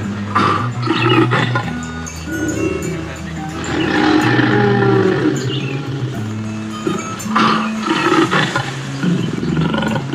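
Animatronic Spinosaurus at a dinosaur park exhibit lets out a long, loud, rumbling roar that swells and recedes in several waves, with brief chirp-like sounds and faint background noise.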